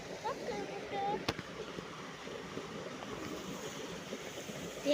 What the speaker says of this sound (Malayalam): വെള്ളം പാറക്കല്ലിന്റെ പോലെ ശബ്ദം ഉണ്ടാക്കുന്നത്